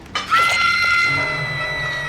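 A generator explodes in the video game Dead by Daylight: a sudden sharp bang followed by a sustained ringing, metallic whine that slowly fades, loud and up front.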